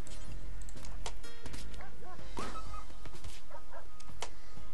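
Dog barks and yips in the Rimworld video game, several sharp bursts mixed with a whimper against a busy backdrop of game effects, with faint talk.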